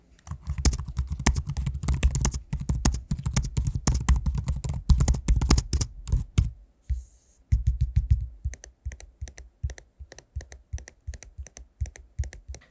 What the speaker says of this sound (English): to give you a quick sample of what the keyboard and the trackpad sound like